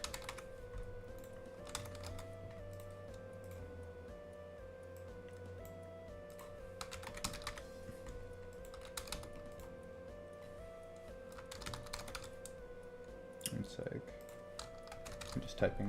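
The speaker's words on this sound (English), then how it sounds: "I'm just typing this in really quick." Quick bursts of keystrokes on a computer keyboard, tapping in short rhythmic runs with pauses, close and fairly quiet, with someone talking intermittently over the typing.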